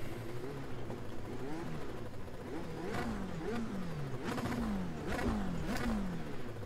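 A racing car engine in the iRacing video game revs up and down repeatedly, pitch rising and falling in surges, loud and close with a steady mechanical roar.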